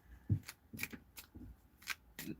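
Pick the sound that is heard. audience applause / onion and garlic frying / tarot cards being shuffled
tarot cards being shuffled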